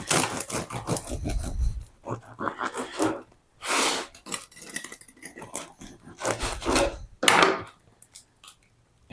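Knife sawing through a whole wheat sourdough loaf, cutting it in half, with repeated rasping strokes against the crust in short bursts, close and fairly loud.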